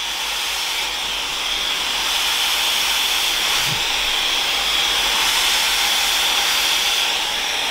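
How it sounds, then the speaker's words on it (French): A steady, loud blowing hiss from a Dyson hair dryer runs without a break for several seconds, broad and airy, close by. "moi j'ai le Dyson en sèche-cheveux"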